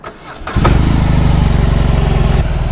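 BMW R18 B boxer-engine motorcycle cranking briefly, then catching and settling into a loud, close, throbbing idle with an even lumpy pulse.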